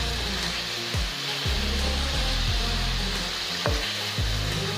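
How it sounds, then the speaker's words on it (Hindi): Chicken karahi fries steadily in a pan with a loud, continuous close sizzle, while a spoon stirs and scrapes at intervals; no voices. "इसकी हमने अच्छे से इसको हमने भून लेना है ताकि इसमें जितना भी कच्चापन है वो सब खत्म हो जाए।"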